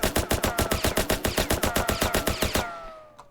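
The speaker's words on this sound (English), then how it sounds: "if I move over here and shoot, my gun moves up" Rapid automatic gunfire from a Unity-built shooter game: about twenty close, loud shots in a steady fast rhythm, then an abrupt stop with a fading ring and one faint click.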